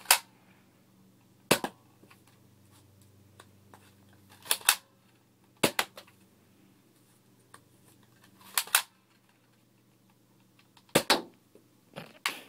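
A Nerf Firestrike foam dart blaster fires in five sharp, close snaps spaced a few seconds apart, with some shots doubled, over a quiet low hum.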